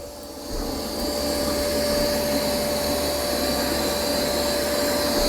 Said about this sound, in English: it's a little noisy when it's on max suction